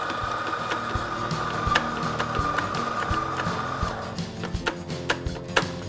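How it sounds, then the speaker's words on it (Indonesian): An electric grinder milling Aceh coffee beans, its steady mechanical whir running close and loud for several seconds before dropping away into scattered clicks and knocks. "Jadi saya sekarang mau giling dulu kopi."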